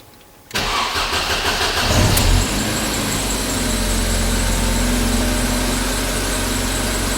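A Class 153 railcar engine turns over and catches, then settles into a steady, loud idle rumble that continues to the end.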